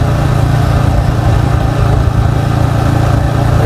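Yamaha XSR 155 motorcycle engine running steadily close up, a loud, even mid-pitched throb with a constant drone and no change in revs across the moment.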